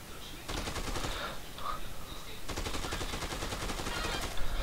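Rapid bursts of automatic gunfire in the video game Dead Rising 2, two long volleys with a brief lull between, loud and steady, with no talking.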